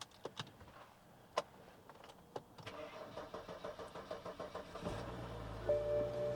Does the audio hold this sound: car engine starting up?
yes